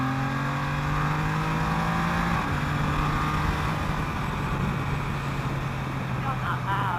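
Can-Am Spyder F3-S three-wheeled motorcycle with an aftermarket exhaust, its loud, steady engine drone and exhaust note heard on a ride with a brief shift in pitch, under continuous wind noise and voices talking.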